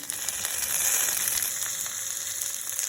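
Curry leaves frying in hot oil, giving a steady bright sizzle with crackling pops, close and continuous.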